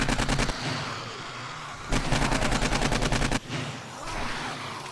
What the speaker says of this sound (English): it's just me letting all hell loose with an AK-47